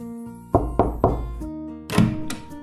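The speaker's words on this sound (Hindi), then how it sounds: "तो इसने इनके दरवाजे पर जाकर खटखटाया।" A cartoon grasshopper knocks on the ants' wooden door: three quick, solid thumps, followed by a softer shuffle and bump a moment later.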